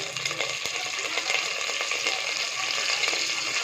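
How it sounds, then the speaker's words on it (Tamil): Garlic and curry leaves sizzle and fry in hot oil, a steady close crackling hiss with occasional stirring clinks. "பூண்டு நல்லா செவக்கட்டும். கருவேப்பிலை போட்டுப்போம்."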